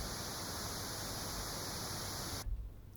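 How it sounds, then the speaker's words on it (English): Waldorf Quantum synthesizer playing a white noise waveform: a steady, even hiss that holds for over two seconds and then cuts off abruptly. "Sawtooth, sine, triangle, square, pink noise,"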